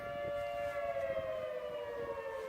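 A steady, wailing siren holds a sustained tone that slowly drifts lower, continuous and fairly loud throughout, with faint background rumble.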